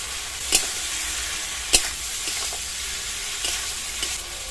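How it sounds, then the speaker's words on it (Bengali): Okra and potatoes fry in an oily spice paste, giving a steady close sizzle with a few sharp clacks of the stirring utensil against the pan. "ভেন্ডি আর আলু দিয়ে খানিকক্ষণ ভেজে নিয়েছি।"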